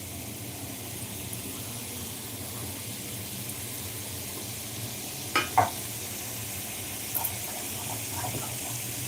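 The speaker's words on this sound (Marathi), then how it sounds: "आता आता आपण पनीर टाकून घेऊया याच्यामध्ये ते फ्राय करून घेऊया" Paneer cubes frying in a pan for mutter paneer make a continuous even sizzle, close and moderately loud, with a few short scraping stirs partway through. No one speaks.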